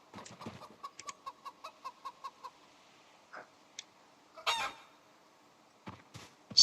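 Chickens and chicks in a Project Zomboid urban farm in Louisville, giving a run of short, evenly spaced clucks followed by a few louder squawks, close and clear with no talking.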